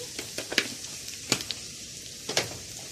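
Onion with coriander fries in a pan, a soft sizzle broken by a few sharp clinks and scrapes of stirring at irregular intervals.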